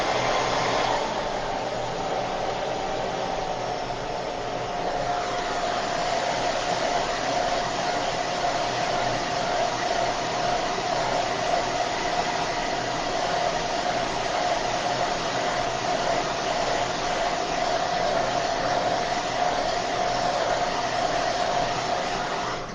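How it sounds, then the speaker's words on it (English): A blow dryer runs loudly and continuously to dry chalk paste, a steady airy roar with a faint high whine that holds throughout. "Oh, thank you so much for that blow dryer."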